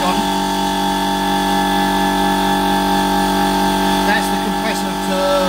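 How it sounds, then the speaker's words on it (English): Air compressor for a car lift ramp running continuously close by, a loud, steady mechanical hum with a constant tonal whine and no breaks. "That's the compressor for the ramp and all blown out. It's the noisiest thing I've got."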